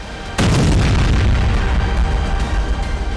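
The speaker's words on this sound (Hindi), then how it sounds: "यहाँ धमाका देखिए, दिन दहाड़े इजराइल ने ईरान के परमाणु अड्डों पर बम बरसाए हैं" A sudden heavy boom from bombs striking nuclear sites in Iran hits after a brief lull, followed by a sustained loud rumbling roar like a large explosion, with no voices.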